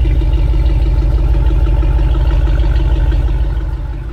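Stock exhaust of a 2018 Dodge Ram Power Wagon revving, a loud, close, low throbbing drone that holds steady and eases off slightly at the end.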